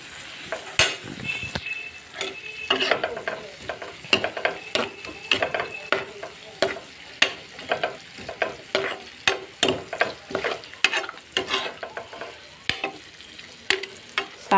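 Turmeric and coriander powder stirred in a sizzling frying pan, a spoon scraping and knocking against the pan in steady, close, rhythmic strokes over a constant fry, with no talking.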